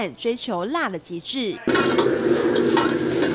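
Green dragon chilies and small hot peppers are stir-fried with pan-fried sunny-side-up eggs at a riverside restaurant, giving a steady sizzle with scraping and clinking of utensils in the pan. A voice talks over the start, then the cooking noise continues alone.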